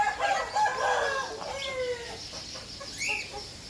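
Young Toulouse geese on a farm call out in a few harsh honks and clucking cries, fairly near and loud at first and tapering off, with a sharper call near the end.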